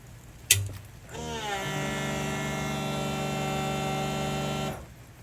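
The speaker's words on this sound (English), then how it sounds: "this is what the pump is going to sound like now when we pull the breakaway switch" An electric-over-hydraulic disc brake pump on a trailer, triggered by pulling the breakaway switch, whines up to speed after a sharp click, then runs with a steady, loud mechanical hum for several seconds before cutting off.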